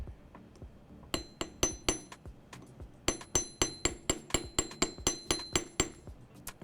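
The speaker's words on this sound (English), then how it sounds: "something so satisfying about hammering wire" Sharp metallic hammer strikes on jewelry wire ring out in quick, steady runs, each blow bright and clinking, with a short pause between two bursts.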